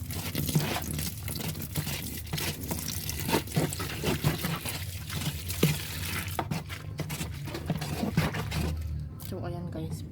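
Water poured steadily into a mixture while making homemade dishwashing liquid, a continuous splashing trickle with occasional knocks and clatter, ending in a few thin drips.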